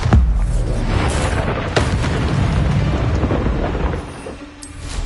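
Bombarda spell explosion in the video game Hogwarts Legacy: a loud booming blast that rolls into a long rumbling roar with a second thump midway, fading toward the end before another small burst.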